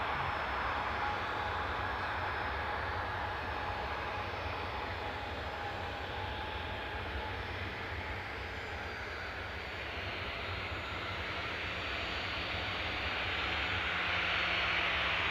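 Loganair Embraer 145 regional jet departing Newcastle airport, its engines giving a steady, broad roar that holds at a fairly even loudness throughout, swelling slightly toward the end, with no talk.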